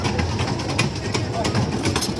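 Small dragon train amusement ride rumbling and clattering at a busy Kali Puja fair in Talcher, with steady fairground crowd noise and people talking throughout.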